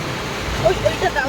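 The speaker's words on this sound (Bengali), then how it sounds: "বেরিয়েছি আর কি জোরে বৃষ্টি এসেছে" Heavy rain pours as a steady, dense hiss and rush close by, with a voice talking briefly over it.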